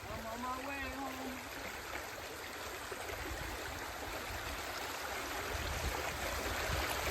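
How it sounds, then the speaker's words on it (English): Rapids on a flooded stream rush steadily, a dense broadband wash of flowing water that stays loud and even throughout, with a brief tonal whine near the start. "We got some rapids going."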